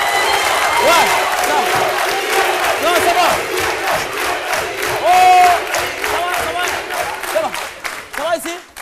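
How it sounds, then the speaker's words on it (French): A studio audience on a midday TV show bursts into loud applause with cheering and whoops. The crowd noise is dense and sustained throughout, with voices rising over the clapping. "Merci de l'applaudir."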